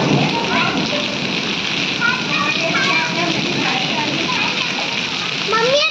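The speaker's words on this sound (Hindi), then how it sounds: "2 मार्च को ये बहुत तकड़ी बारिश हुई" Heavy rain with hail pours down in a constant, dense hiss, while children's voices and other chatter carry on over it throughout.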